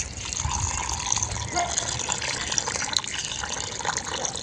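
Water poured onto a fire burning in a watermelon, a steady splashing gush with some hiss and dripping, fairly close and continuous for several seconds.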